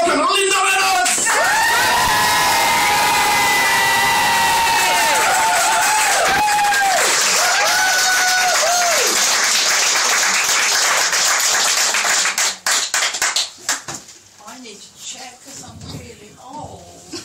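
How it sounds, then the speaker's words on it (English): A stand-up comedy crowd in Rochester, Kent claps, whoops and cheers loudly for a comedian taking the stage, with sustained yells over dense applause that breaks up and dies down toward the end. "give us the biggest round of applause of the night"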